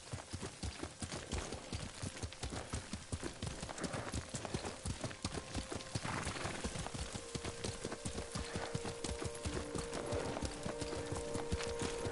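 A horse is ridden in the game Ghost of Tsushima, with steady rhythmic hoofbeats clip-clopping close by throughout, a soft whinny and ambient tones underneath.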